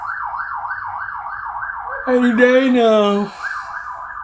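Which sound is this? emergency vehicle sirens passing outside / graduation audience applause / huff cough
emergency vehicle sirens passing outside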